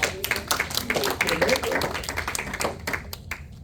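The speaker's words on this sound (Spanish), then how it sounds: "¿No le da un aplauso al Señor?" Congregation clapping during a church sermon, a run of scattered claps and taps that mixes with a voice speaking over it.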